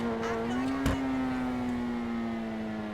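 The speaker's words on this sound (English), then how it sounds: "the backfire for this vehicle is just insane" A single sharp exhaust backfire pop cracks over the steady, droning hum of an Itali GTO sports car idling close by in GTA Online.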